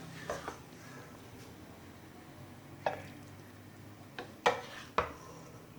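Capsicum keema scraped from a pan into a serving dish, giving a few sharp metallic scrapes and clinks spread over a quiet, low room hum.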